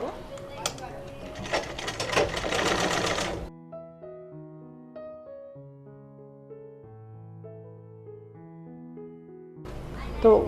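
A sewing machine stitches small gathered pleats into the round neckline of a maxi dress, running in a steady rattling burst for a few seconds, then stopping while soft music plays, before starting up again at the end.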